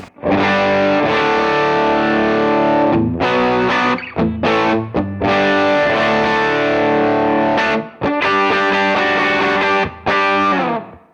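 Electric guitar through a low-gain Timmy overdrive pedal on an HX Stomp plays sustained chords and riffs, loud and continuous with a few brief pauses between phrases.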